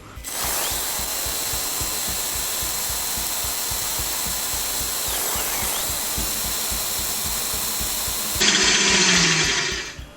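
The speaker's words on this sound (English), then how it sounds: "we're going to use the whisk attachment, and you're going to whiz it till it goes foamy and pale" Electric mixer with a whisk attachment whirring steadily close by as it beats a mixture for a chocolate Yule log until foamy and pale, the motor pitch jumping higher and louder near the end.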